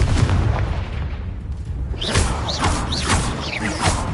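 Confringo blasting spell explosions in the game Hogwarts Legacy, a run of loud booming bursts with crackling, whooshing tails against continuous battle noise, no voices.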